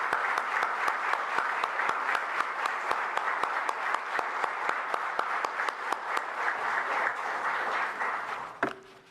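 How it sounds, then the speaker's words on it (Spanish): Strong, sustained applause from a large audience at a Communist Party Central Committee plenary meeting, steady dense clapping that carries on evenly before tapering off at the very end. "Un fuerte aplauso"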